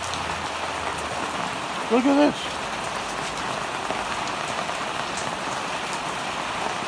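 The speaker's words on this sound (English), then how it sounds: "It's raining in April." Steady rain falls on an April day in Sunland, a dense, even patter and hiss throughout, with someone briefly speaking near the middle.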